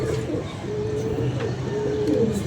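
Pigeons coo softly in a bird-keeping setting, with low, repeated throaty coos continuing steadily throughout and mixed with faint background noise.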